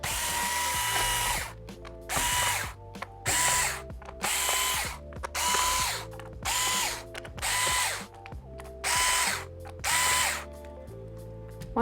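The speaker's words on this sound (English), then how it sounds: "you just want to take out the screws in the bottom cover" Small screws being backed out of the bottom cover of a Lenovo 300E Chromebook with a power driver, repeated short buzzing whirs in regular bursts with ratcheting clicks, close and clear.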